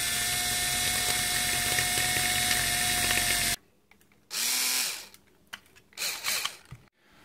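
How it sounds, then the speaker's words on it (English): A power drill whines steadily for a few seconds while drilling a hole in a toy quadcopter drone, then stops, followed by short bursts of drilling and a little clatter, close by. "got the hole drilled"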